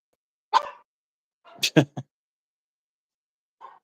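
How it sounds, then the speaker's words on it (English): A dog barks alone in short, sharp bursts: one bark, then a quick cluster of three, and a faint final yip after a pause, close by and fairly loud in an otherwise quiet room. "Fucking dog's blind as shit, sitting there barking at nothing"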